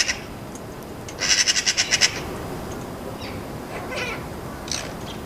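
A baby magpie gives a quick run of about seven harsh, rhythmic calls as it hops up a tree, then fainter scattered chirps follow over steady outdoor background noise.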